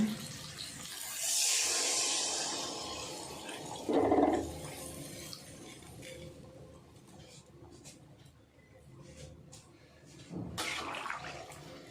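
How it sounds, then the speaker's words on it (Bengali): Water poured into a pot of thin rohu fish curry with new potatoes: a few separate splashing, gushing pours rising and fading, the longest near the start and another near the end, amid quiet room noise and faint voice sounds. "এবার দিয়ে দেব জল।"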